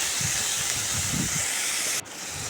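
Capsicum and carrot sauté with salt over a high flame for wheat momos, giving a loud, continuous hiss of steam and sizzle. Low stirring rumbles run beneath it, and the hiss dips briefly near the end.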